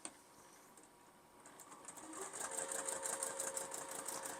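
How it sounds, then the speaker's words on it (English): A sewing machine stitches a quilt block for a sawtooth star pattern, starting quietly and building into a steady, rapid mechanical whirring and ticking that runs continuously and close by. "now we're ready to stitch, and what we're going to do is stitch a 1/4 inch away from the line we drew on both sides"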